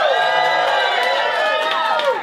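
A crowd at the Helium Comedy Club in Philadelphia cheering loudly, with high whoops and shouts layered into a steady, close roar that carries on throughout.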